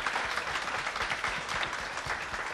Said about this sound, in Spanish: Un aplauso para estos niños tan hermosos que ganaron,